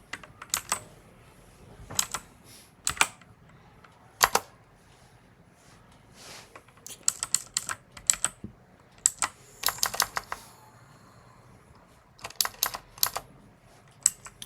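Typing on a computer keyboard, close and fairly quiet, irregular bursts of key clicks with short pauses between runs, no voices.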